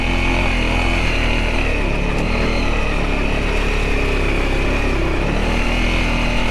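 A motorcycle engine idles along at low revs in first gear on slippery clay in Wayne National Forest, a steady, loud mechanical drone with no talking.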